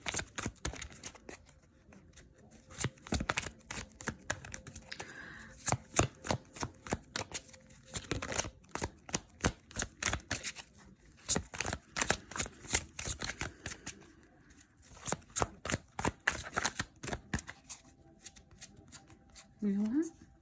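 Tarot cards being shuffled for a reading: a long run of rapid, crisp riffling bursts, close and fairly loud, with a person talking softly in between.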